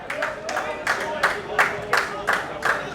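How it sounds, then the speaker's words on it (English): Applause and clapping from a crowd of local supporters at an AFL match in the All-Asian Cup, a steady patter swelling in repeated bursts as a player comes off the field, with a commentator talking over it. "It's a bit of a round of applause as he comes off the field there."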